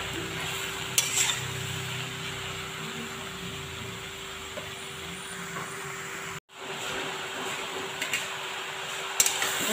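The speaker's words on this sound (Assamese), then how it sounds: "অলপ টাইম ভাজোঁ মই এনেকৈ 2 মিনিটমান" Taro greens (kosu) frying with a fish head in a pan give off a steady, close sizzle with faint stirring and utensil clicks, a brief cutout, then the same even frying noise resumes, with no voices.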